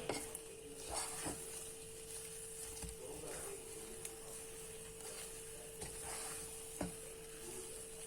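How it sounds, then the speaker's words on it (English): Semolina dough being stirred in a pot on the heat for semolina roti, a steady soft scraping and stirring texture with a faint sizzle and hiss underneath, a few sharper knocks standing out, no talking. "If there are any lumps, you can continue stirring it"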